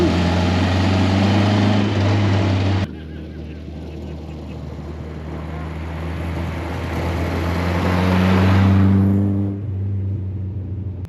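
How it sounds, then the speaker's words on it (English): A 1962 MG Midget Mk1 roadster, revived after 54 years of sitting, runs with a steady low engine drone that swells and eases as it drives, loud and close throughout. "will this 1962 Mk1 MG Midget run again after 54 years of sitting?"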